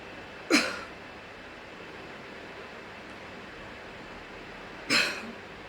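Two sharp, breathy huff coughs done as a breathing exercise to clear the lungs, about four seconds apart, close by against a quiet hiss.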